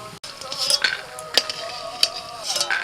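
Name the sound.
frying dried lentil dumplings (bori) in oil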